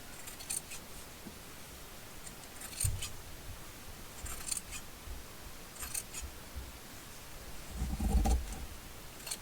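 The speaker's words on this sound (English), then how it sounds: "So let's maybe cut below the ruffle or above the ruffle." Scissors cutting through fabric just below a ruffle, a few quiet, brief snips spaced apart against a soft background hiss, close and faint.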